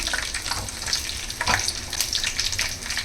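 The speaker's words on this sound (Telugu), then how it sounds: "ఈ వేరుశనగ నూనెలో ఈ తాలింపు అనేది వేగుతుంటే" Spices and dried red chillies crackle and sizzle steadily in hot peanut oil, with occasional louder pops and a stirring scrape midway; no voices.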